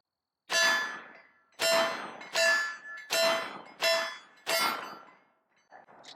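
A SAR USA SR38 revolver fires six shots alternating .357 Magnum and .38 Special, loud sharp reports with ringing decay, spaced under a second apart, followed by faint handling clicks.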